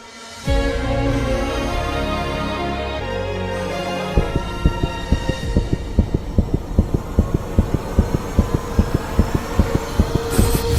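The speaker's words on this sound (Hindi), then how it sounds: "ये किसी इंसान के दिल की धड़कन नहीं है, मानो कि जैसे किसी मशीन से ऑपरेट हो रहा है।" An abnormally regular heartbeat that sounds machine-driven, starting as a low hum and then turning into rapid, evenly spaced throbbing beats that pound on steadily and loudly.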